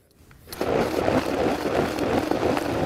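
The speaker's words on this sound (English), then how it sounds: "so we've got that all in the blender, and we're going to pulse this for about a minute." A kitchen blender chops garlic with other breakfast ingredients, starting after a quiet moment and then running as a loud, steady whirring grind close by.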